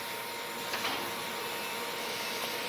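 A steam locomotive's vacuum ejector releases the brakes in a train simulator game, giving a faint, steady hiss and rush of air with a couple of soft puffs, quiet and continuous throughout.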